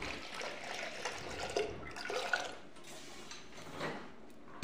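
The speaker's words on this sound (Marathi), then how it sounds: "आता याच्यामध्ये पाणी टाकून घ्यायचं" Water poured into masoor dal in a pressure cooker, a soft continuous trickle and splash at close range, fairly faint.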